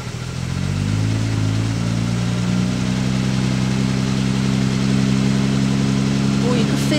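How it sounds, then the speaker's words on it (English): Jaguar E-type engine idles after a cold start with carburettors out of balance, a loud, steady low rumble that wavers slightly and sounds a little lumpy, continuing alone near the car. "It's idling quite nicely considering the carbs are out of balance."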